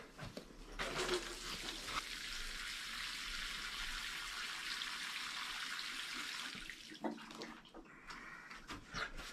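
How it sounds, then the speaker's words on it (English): A tomato plant in a greenhouse gets a generous watering, with a steady, soft hiss of pouring water running for several seconds before trailing off into a few drips and small bumps. "Give it a good watering."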